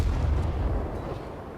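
Destroyer naval guns firing in World of Warships, Umikaze class destroyer: a dense, rumbling low boom of gunfire that holds strong and then slowly fades, with no talk over it.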